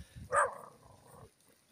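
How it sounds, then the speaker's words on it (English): One faint dog bark pops up briefly at a distance in a Philippine province neighborhood, followed by a low trailing growl-like tone and quiet ambience. "It's not a good idea to turn your back on the dog."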